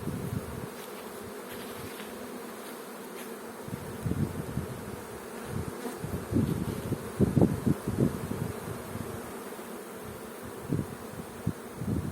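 A large honeybee swarm buzzes at the hive as the bees gather around their queen inside; a dense, steady drone fills the whole stretch, close and continuous, with slight swells in loudness.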